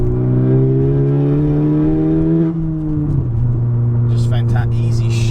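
Car engine with an Acuity short shifter held at steady revs, then dropping in pitch as the driver downshifts, a continuous droning hum with a brief rustle near the end.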